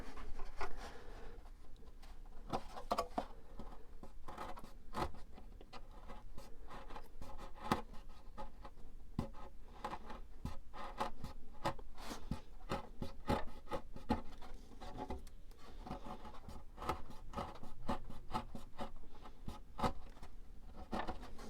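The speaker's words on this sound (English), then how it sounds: "so I'm just going to sand the rest of that" Balsa wood on a Balsa USA Smoothie RC plane kit is sanded by hand, giving steady rhythmic rasping strokes, close and moderately quiet, continuing without pause and with no talking.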